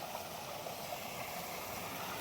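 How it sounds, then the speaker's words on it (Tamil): Water gushing forcefully from a well pipe on farmland, a steady broadband rushing hiss that stays even and continuous, moderately loud, with no voices. "தண்ணி எவ்வளோ ஃபோர்ஸாக வருதுன்னு பாருங்கள்."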